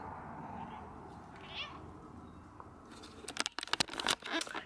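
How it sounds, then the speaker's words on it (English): Several house cats meow indoors, the calls surfacing faintly early on, then a burst of louder, closer meows toward the end over quiet room noise. "They've been meowing all morning."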